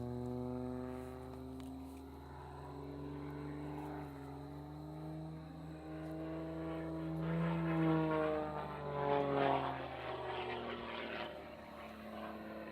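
A propeller aerobatic airplane flies competition maneuvers at a national aerobatics event, its engine droning steadily with a rising and falling pitch as it passes, distant but clear, growing rougher and louder in the middle before easing off.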